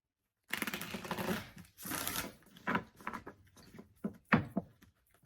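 Tarot cards riffle and shuffle in several quick bursts of papery rustling, close and moderately loud, with short pauses and a few sharp taps between.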